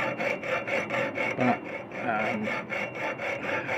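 A piercing saw cuts through metal in quick, even back-and-forth strokes, a close rasping rhythm that stutters briefly midway before resuming its steady pace.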